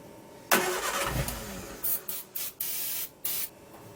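A barn-find Triumph Spitfire engine runs for the first time in 43 years, starting with a sudden burst and then rough, uneven bursts of revving and sputtering that cut in and out, close and fairly quiet.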